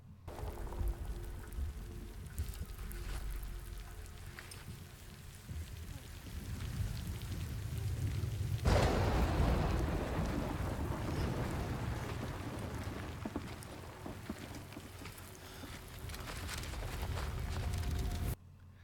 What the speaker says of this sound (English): not only do we have the rain getting worse, but also we've got lightning in the background